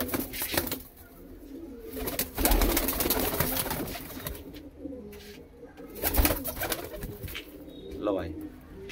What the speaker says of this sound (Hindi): एक कबूतर ये है भाई लालचीना, इस कबूतर का शौक करो।